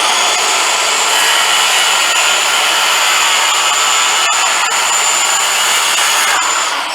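Circular saw cutting through a 2x4 board for a home pull-up bar build, a loud, steady whining roar held for about seven seconds, with a few clicks partway through.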